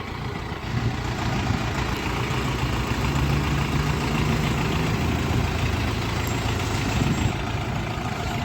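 A Jinma 40 hp mini tractor engine runs steadily at idle, a continuous low diesel rumble with an even throb and no talk throughout.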